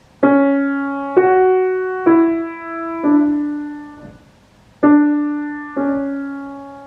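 A piano plays a slow line of single sustained notes, six struck tones with a short pause before the last two, alone and close.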